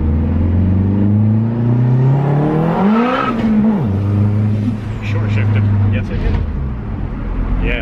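A car engine revs hard under acceleration, a loud steady drone climbing and falling in pitch through the gears, with voices talking over it inside the cabin.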